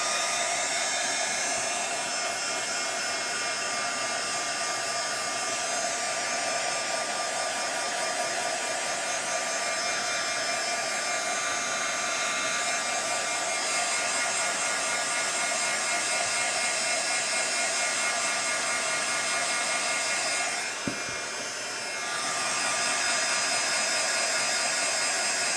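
A hair dryer blows steadily and loudly on a gift box craft to dry a fresh dark coat of paint, with one brief dip near the end and no talk.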